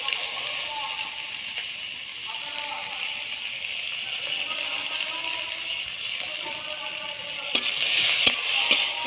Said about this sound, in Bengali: ওই একই কড়াইতে আমি চিংড়ি মাছগুলো ভেজে নিচ্ছি।